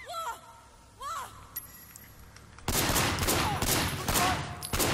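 Gunfire in the video game Sleeping Dogs, a quiet stretch with faint tones giving way to a loud sustained burst of rapid shots in the second half.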